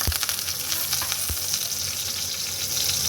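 Sliced ginger, garlic, chopped green chillies and curry leaves sizzle steadily in hot oil in a pan, a close, continuous frying crackle with a few sharp pops and no talking.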